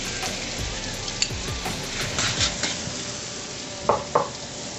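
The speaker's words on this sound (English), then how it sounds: "Add our vegetables, starting with our peppers and onions." Peppers and onions sizzle steadily in a pan for chicken and seafood paella, a dense close frying hiss broken by a few sharp crackles and light stirring clinks, with no talking.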